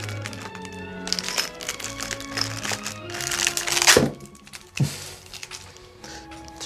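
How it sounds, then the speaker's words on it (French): Adhesive tape ripped off a delivered package holding metal parts, with crackling, crinkling tearing bursts and a couple of sharp louder rips near the end, close and fairly loud with no talking. "Alors, ça va faire du bruit de scotch."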